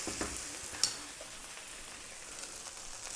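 Rice for pork fried rice sizzles and crackles quietly in a pan, a soft continuous hiss with an occasional sharp tick from a utensil.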